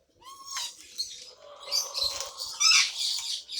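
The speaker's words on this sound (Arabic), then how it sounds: "يسوي أصوات غريبة يسوي. هذا ببغاء الأمازون هو ده." An Amazon parrot at a zoo runs through a string of odd sounds: a short whistle, then warbling chatter and harsh squawks rising in bursts, close and moderately loud with no talk.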